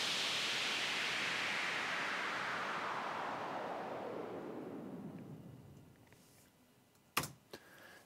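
A synthesized noise sweep built in Logic Pro X glides steadily downward from a bright hiss to a low rumble over several seconds, fading out, followed by a couple of brief clicks near the end.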